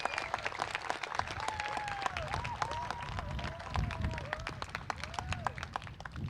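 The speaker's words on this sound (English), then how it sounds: "I think we should all give all these donors a loud, big hand and applause." A crowd at an outdoor park celebration applauds donors, the claps faint and scattered beneath a speaker's voice and distant outdoor noise, continuing steadily throughout.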